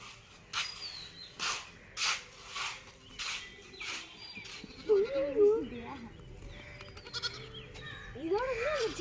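A mother goat calls for her kid with several wavering bleats, close and fairly loud, while people talk and rustling sounds come and go.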